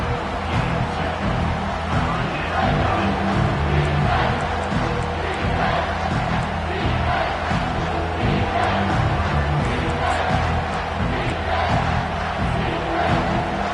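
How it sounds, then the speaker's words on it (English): A packed stadium crowd at a football game roars loudly and continuously, a dense wall of cheering and shouting that never lets up. "Third down, and this crowd is tearing the lid off this place."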